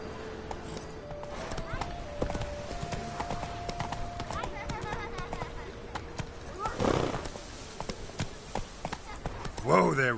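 Roach, the horse in The Witcher 3, trots with steady clip-clop hoofbeats and a neigh near the end, set against background music and game ambience.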